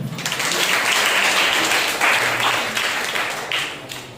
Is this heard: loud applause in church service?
yes